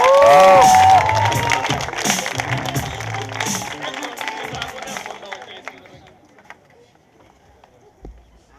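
A slam poetry audience in Szeged cheers and applauds a poet heading to the stage, with a bright whistle at the start; the loud crowd noise gradually fades away over the final few seconds.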